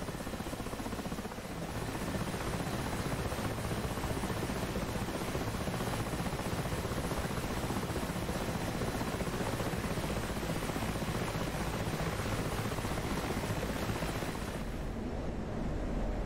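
A helicopter flying over the Syrian–Turkish border area near Yayladağı, a dense, loud, continuous rotor and engine roar filling the whole stretch with no voices.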